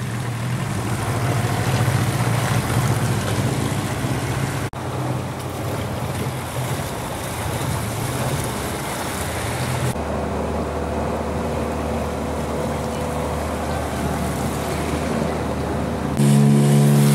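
Motorboat speeding and manoeuvring at high velocity on Kali Cokel river in Pacitan, a loud continuous engine drone with rushing water and wind, the engine note shifting abruptly midway and again near the end.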